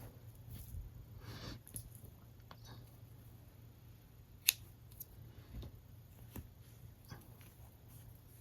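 Scissors snip through pink yarn during a crochet project, a single sharp cut standing out from a quiet room with faint handling noises.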